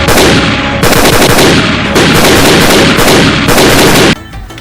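Loud, rapid gunfire crackles in continuous close bursts for several seconds, then cuts off abruptly.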